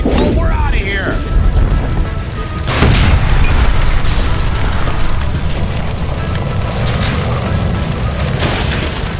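A gas line blowing up in the video game L.A. Noire: a loud boom near three seconds swells into a sustained roaring rumble with crackling debris, while voices shout over the blast.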